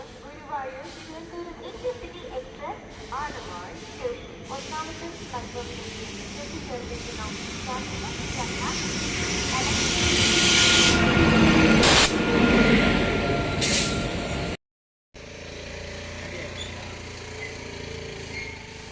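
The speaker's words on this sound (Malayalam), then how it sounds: "ട്രെയിൻ വരുന്നുണ്ട്." A train's rumble and hiss swell steadily to a loud, close roar, then ease off, with muffled voices underneath.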